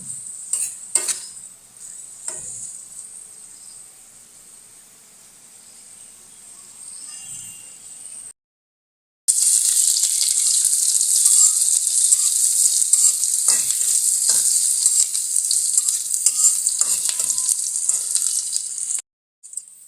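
Food sizzles steadily in a hot pan, a constant hiss with occasional stirring scrapes and a brief pause partway through.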